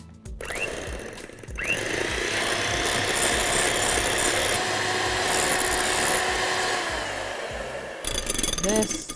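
An electric mixer beats ice cream with jelly in a bowl, a continuous loud whirring hum with a brief pause near the start and a clatter at the end.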